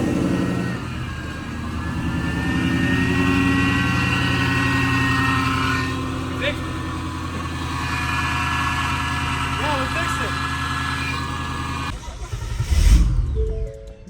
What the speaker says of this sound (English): Literally took them 10 minutes and now the car's running.